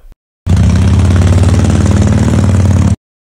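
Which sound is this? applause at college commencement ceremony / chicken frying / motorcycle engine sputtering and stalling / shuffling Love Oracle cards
motorcycle engine sputtering and stalling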